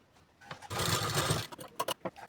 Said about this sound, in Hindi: ये पट्टी है, इसके ऊपर पे इस पट्टी को हम रखेंगे और तिरछे पे सिलाई लगा करके इसे जोड़ेंगे